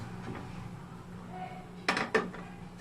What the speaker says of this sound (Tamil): ஸ்டவ் ஆன் பண்ணி குக்கர் வச்சுக்கலாம்